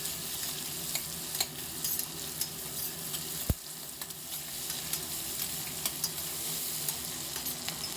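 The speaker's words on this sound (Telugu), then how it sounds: "ఇప్పుడు ఈ ఆనియన్స్ కూడా వేసేసి ఆనియన్స్ని బాగా కలుపుకొని 1 స్పూన్ సాల్ట్ వేద్దాము. అలాగే మంచి గోల్డెన్ కలర్ వచ్చే వరకు ఈ ఆనియన్స్ని వేగనిద్దాము." Onions frying in a pan with a spoonful of salt give a steady crackling sizzle, with occasional scrapes of stirring and one sharp knock partway through; no voices.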